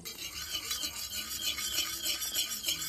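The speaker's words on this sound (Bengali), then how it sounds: "এবারে সব কিছু উপকরণ ভালো করে এইভাবে মিশিয়ে নেব।" A spoon stirs a mixture of okra liquid, cornflour and aloe vera oil in a bowl, producing a continuous soft rubbing, swishing scrape, close and quiet with no talk.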